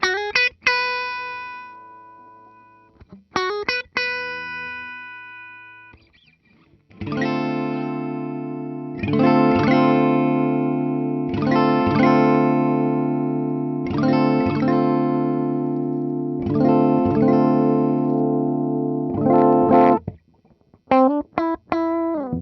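A 2023 Gibson Les Paul Standard 50s three-pickup electric guitar rings out, first in short plucked notes, then in a run of sustained, evenly repeated strummed chords, loud and clean with quick stops between them and no speech.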